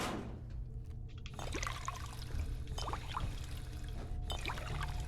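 Liquid pours and trickles at low volume as bottles are filled with dirty water in Fallout 4, a steady watery flow with small splashes and no talking.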